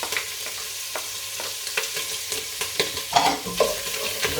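Capsicum sizzles in a hot pan for a bolognese, with a bright steady fry punctuated by repeated scraping stirs and clicks of a utensil.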